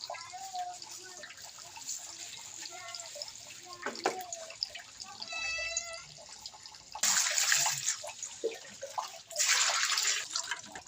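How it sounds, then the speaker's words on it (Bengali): Scaled fish being rinsed by hand in water in a home kitchen, with soft splashing and dripping, then louder bursts of running water from a tap, while a cat is heard nearby. "তো মাছগুলো আঁশটে ছাড়ানো হয়ে গেছে, এখন মাছগুলো ধুয়ে নেবে।"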